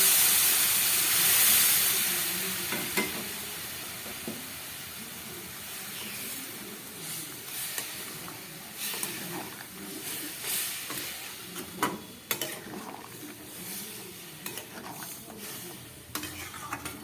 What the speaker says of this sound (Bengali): এবার আমি দিয়ে দিচ্ছি এর মধ্যে পরিমাণ মতো জল।